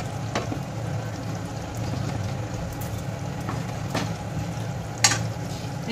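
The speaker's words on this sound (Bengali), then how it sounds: "এবার একটু ভালোভাবে মিশিয়ে দেব।" A spoon stirring raw mango chicken curry with sprinkled dry-roasted kasuri methi in a pan on a gas flame, with a steady low simmer and sizzle and a few sharp scraping clicks, loudest near the end.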